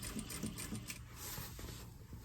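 A sewing machine runs in short bursts while back stitching a tote bag seam, its rapid mechanical chatter close and fairly quiet, with brief pauses and no talking.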